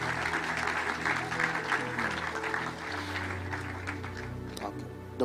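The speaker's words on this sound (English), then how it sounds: "Please clap well so that Apostle can speak for long" Audience applause breaks out during a church-setting interview with an apostle, a steady broadband clapping texture filling the whole stretch at moderate level, with some voices mixed in underneath.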